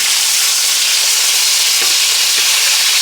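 Cold-smoked filet mignon sizzles loudly and steadily in a hot pan as it is flipped, a dense crackling hiss with a couple of faint knocks.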